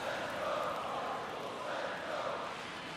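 A stadium crowd at a baseball game in MLB The Show, a steady broad roar of cheering voices from the stands that swells slightly and holds for a few seconds.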